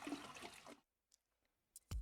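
A toilet flush in the video game Streamer Life Simulator 2, a brief rushing gush of water that stops abruptly, then near silence with a few small clicks and a low thump.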